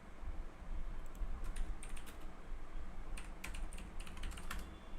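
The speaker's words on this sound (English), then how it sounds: "Once you're done typing it, hit enter." Several people typing on computer keyboards during a coding class, a steady patter of quiet key clicks with bursts of faster tapping, faint and continuous against low room noise, no talking.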